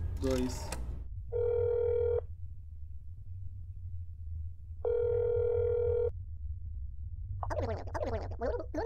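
Phone line tones in the horror game That's Not My Neighbor: two long steady ringback buzzes separated by quiet over a low hum, with a voice briefly heard before and after.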